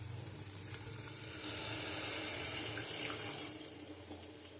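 Water pours into a pot of cooking red lentil (masoor dal) curry, a steady close splashing rush that swells in the middle and eases off, with a faint sizzle underneath.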